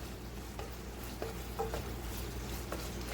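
Ground meat browning in a pan, seasoned with black pepper, giving a steady faint sizzle with a few light utensil taps and scrapes as it is broken up, no talking.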